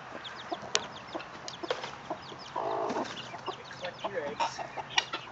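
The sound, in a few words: chickens and rooster clucking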